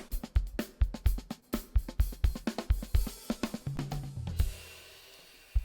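Drums play through close microphones only, with no room mics. Crisp, dry kick, snare and cymbal hits come in a quick steady groove, and the playing stops toward the end.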